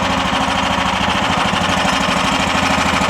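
A tracked mud buggy's engine running at reduced throttle, giving a steady, loud, rapid knocking chug close by that holds an even rhythm throughout, with no voices.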